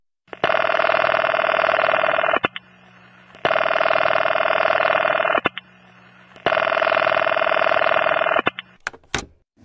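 A telephone rings in a radio drama, three long, loud electronic rings separated by short pauses, followed by a brief clatter as the receiver is picked up.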